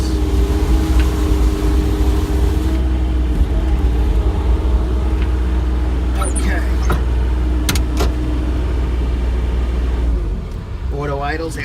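Bobcat E35 R-Series compact excavator engine idling steadily and close, a constant low rumble that drops slightly near the end, with faint clicks and rattles over it.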